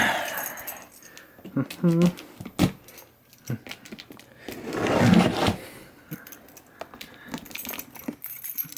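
Keys jangling and scraping as they slice the tape on a cardboard box holding a BenQ XL2411Z monitor, with irregular jingles and scratchy tearing bursts, close by, under occasional talk.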